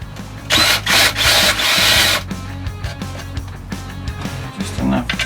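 A power drill whirs loudly in two bursts near the start while customising a small electric skateboard, then fades to lighter handling noises and clatter with a brief final whir.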